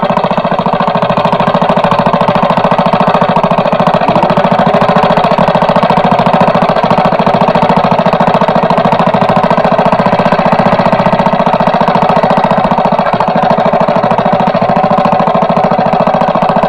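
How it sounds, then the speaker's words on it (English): A loud engine running steadily with a rapid, rattling knock throughout, close by and unbroken for the whole stretch. "You gotta get this engine hooked up."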